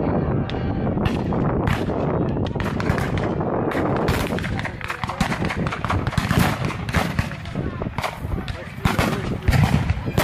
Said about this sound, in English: Not fast fire, but machine gun this time.